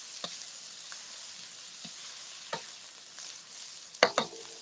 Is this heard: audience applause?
no